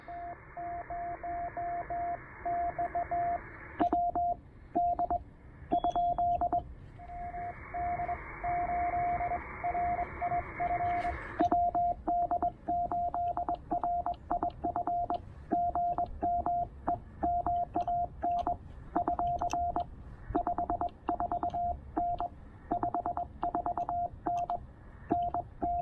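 Morse code CW signals on a Penntek TR-45L ham radio receiver paired with an Elecraft AX1 antenna during a POTA park activation: a steady mid-pitched tone keyed in fast dots and dashes over a continuous hiss of band noise.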